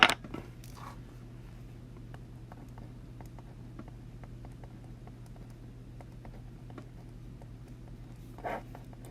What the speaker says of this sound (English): I'm writing it down so I don't forget